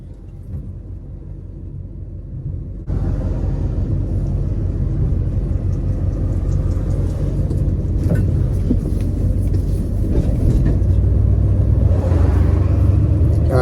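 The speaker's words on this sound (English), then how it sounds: "This truck is running ridiculously nice" An old pickup truck without power steering idles with a deep, steady rumble, close and loud, then thickens into a fuller, louder engine roar partway through that holds to the end.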